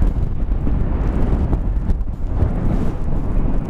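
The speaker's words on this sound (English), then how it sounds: "and it's incredibly windy" Loud, relentless wind batters the microphone at Chesil Beach, Dorset, England, producing a deep, rumbling roar with constant buffeting gusts and no other sounds.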